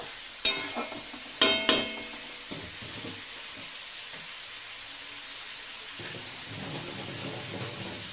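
Drumstick stems sautéed in a pan, a soft steady sizzle beneath a few sharp metallic clanks early on, then quieter stirring scrapes.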